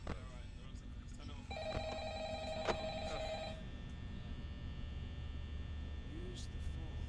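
A telephone rings in the Five Nights at Freddy's horror game, a steady electronic trill lasting about two seconds over a low background hum, while a voice speaks nearby.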